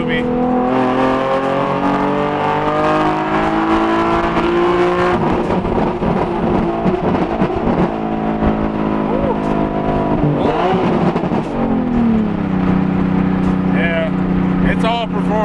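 A V6 car accelerates hard and revs, with the engine note climbing through several gears in long rising sweeps, loud and close, and the pitch dropping between shifts.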